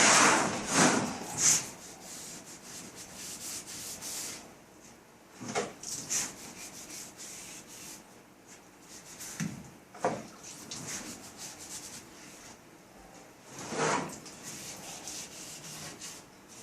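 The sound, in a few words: scrubbing a chair with a brush and liquid stripper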